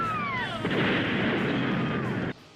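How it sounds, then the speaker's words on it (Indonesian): A car blowing up in an action film: a loud, sustained explosive roar lasting about two seconds, with a faint descending tone just before it and no voices. "mobil itu meledak seketika."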